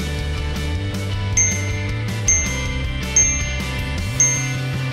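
A bicycle bell rings four times at roughly even intervals, each a short bright ding standing out over steady background music.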